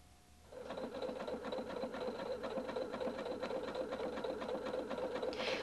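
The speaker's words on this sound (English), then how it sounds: "begin sewing at the bottom of the buttonhole" A Husqvarna Viking Designer 1 sewing machine stitching a buttonhole, starting up after a brief quiet moment and running in a steady, close mechanical whir with rapid needle chatter.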